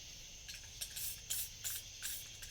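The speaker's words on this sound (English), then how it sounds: "Just going to spray a little bit more white" White spray paint hisses from an aerosol can in a series of about five short, bright bursts, each a sharp puff of spray with brief quiet gaps between, close and fairly soft.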